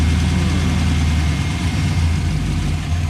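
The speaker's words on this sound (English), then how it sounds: "Got a little hunting idle." A Chevrolet squarebody K10 truck engine idles close by with a steady low rumble that wavers slightly in a hunting rhythm, loud and continuous with no talk.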